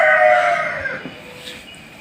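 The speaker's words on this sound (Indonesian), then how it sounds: "ada suara ayam nih karena pagi-pagi ini" A rooster crows once in the early morning, a drawn-out call nearby that fades into quiet outdoor background.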